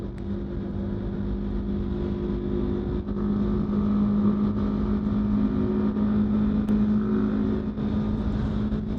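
A 2026 Yamaha R3 motorcycle fitted with a Coffman's slip-on exhaust rides along, its engine humming steadily then rising in pitch with throttle, a constant near drone mixed with wind rush.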